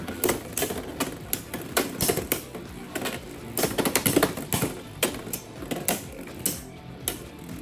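Beyblade X tops, including Hells Reaper, clatter and clash in a plastic stadium: rapid sharp ticking hits and rattling bursts in an uneven rhythm, fairly close, with no talking.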